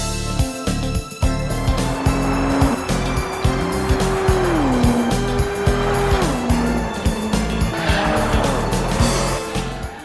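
A Dodge Viper race car lapping in the video game Gran Turismo 3: a loud, steady engine drone that climbs and drops through repeated gear shifts, with tire squeal underneath throughout and no talking.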